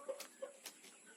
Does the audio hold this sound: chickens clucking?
yes